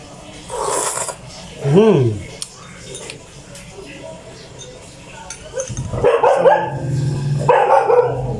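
A pet dog barks and yips a few times in a home kitchen, a sharp bark standing out briefly amid clinking dishes and utensils and nearby talking.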